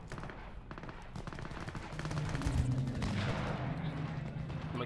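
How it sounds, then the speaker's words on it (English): Gunfire in Cyberpunk 2077, a series of sharp shots and rapid bursts heard fairly faint over low game ambience and a rumbling background. "I could have sworn I heard a gunshot."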